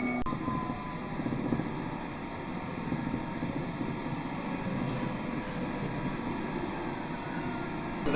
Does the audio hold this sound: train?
yes